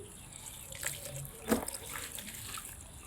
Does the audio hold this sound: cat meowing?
no